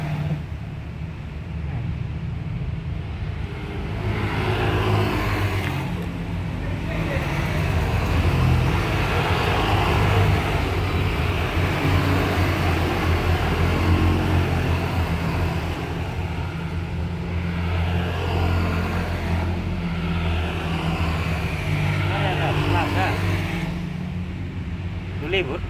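Road traffic rumbles along Jalan Raya Kerobokan in Bali as a steady engine hum with passing vehicles swelling and fading, heard close under ongoing casual conversation.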